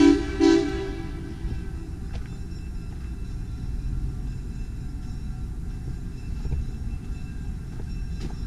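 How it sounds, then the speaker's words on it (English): A train at the Heart of Dixie Railroad rumbles past steadily and fairly close, with a brief horn toot near the start, then a continuous low rolling noise of wheels and cars. "What else would you expect to find in a railroad but trains?"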